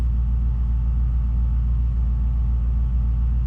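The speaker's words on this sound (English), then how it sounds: "when I do crank this thing, it will show RPM" A 1979 Chevy square-body half-ton truck with an LS engine swap gives a steady, heavy low rumble, loud and continuous, like an engine turning over or running, with no voices.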